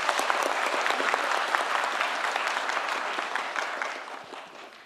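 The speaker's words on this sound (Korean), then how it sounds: "박수 한번 주세요." A crowd applauds with dense, steady clapping that holds for several seconds and then tapers off at the end.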